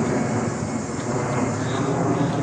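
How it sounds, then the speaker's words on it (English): A big aeroplane flying low overhead gives a loud, steady broadband roar that fills the whole moment, close and continuous, with no talking. "whoa, a big aeroplane,"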